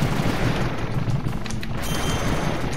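Rapid gunfire from a gun in a video game: loud, dense bursts of shots that blur into a continuous rattling roar over a low, booming undertone, lasting close to three seconds with no talking.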